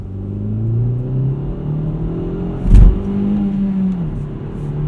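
Interior drone of a 2018 Hyundai Elantra GT Sport's 1.6-liter turbocharged engine while driving at night, a steady close rumble with rising and falling rev tones and a brief low thump midway.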